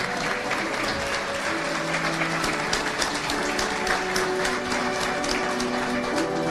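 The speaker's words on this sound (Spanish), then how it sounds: "Un aplauso de nuevo para el señor Aníbal Ruiz por el trabajo que ha realizado." An audience at a 2018 graduation ceremony for a radio, television and digital media diploma gives sustained, even applause for Aníbal Ruiz, a dense continuous clapping filling the room with no talk over it.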